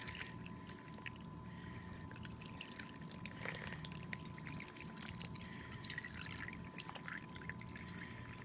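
Canned tomato juice from a 46-ounce can poured into a soup pot, a faint, steady glugging trickle of thick liquid lasting several seconds, with no talking.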